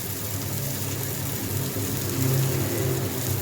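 Eggplant slices fry in a pan, producing a continuous, even, rain-like sizzle up close that swells slightly toward the end.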